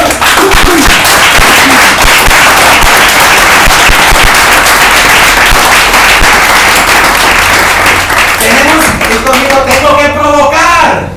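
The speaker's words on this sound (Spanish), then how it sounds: "Dale un aplauso a Dios." A church congregation applauds loudly and continuously for several seconds, dense crackling claps filling the space, with a voice rising over the applause near the end.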